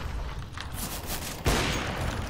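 A quick burst of rapid gunfire from a video game, several sharp shots in close succession with a louder blast near the end.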